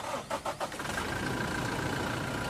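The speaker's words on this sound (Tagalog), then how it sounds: "Tapos pwede ko nang start itong makina." A Toyota Fortuner engine cranks with a few quick rhythmic turns after an oil change, then catches and settles into a steady idle, heard close by.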